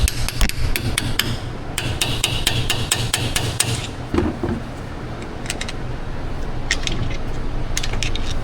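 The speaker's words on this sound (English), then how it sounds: "Hit it with a hammer." Sharp metal hammer blows strike a preload wrench on a Ram 1500 truck's rear axle, a close series of irregular ringing impacts in quick bursts over a steady background hum.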